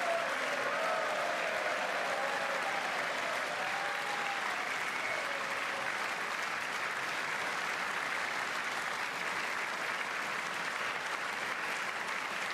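Sustained applause from a large chamber audience at the State of the Union address fills the whole stretch, a steady, dense wash of clapping with faint voices underneath.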